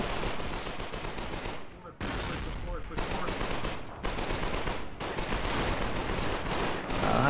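Dense, continuous gunfire and booming artillery shell impacts in the war video game Foxhole, loud and close, broken by a few brief pauses, with a voice talking faintly underneath.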